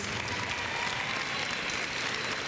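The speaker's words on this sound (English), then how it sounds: "James, if you could rise, and go ahead, give him a round of applause, James." Audience applause at a Glendale Prep fall sports ceremony, a dense, even wash of many hands clapping throughout, moderately distant and steady without a break.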